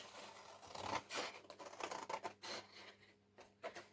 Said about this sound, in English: we shall snip this bit out rather quickly